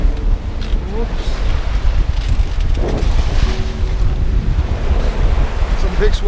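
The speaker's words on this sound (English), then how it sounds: "Big swells here." Big ocean swells on the North Sea heard from a sailboat, with a steady roar of water and strong wind buffeting the microphone, loud and continuous throughout, and a voice speaking at one point.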